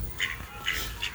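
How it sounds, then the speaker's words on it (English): A moorhen calls at a UK bird-feeding spot, giving three short, sharp squawk-like notes spaced about half a second apart, fairly close, over a low outdoor background rumble. "The moorhen."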